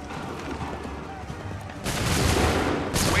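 Musket volleys crackle and boom in an Assassin's Creed 3 battle, with a dull low rumble that swells into a loud, sustained burst of fire and a second surge near the end, under shouted orders.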